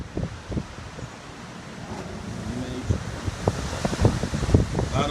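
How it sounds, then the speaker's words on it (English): Wind blows steadily outdoors in eastern Carolina after Hurricane Dorian, a constant rushing roar with buffeting against the microphone, growing stronger toward the end, with no clear voices. "The wind's still blowing."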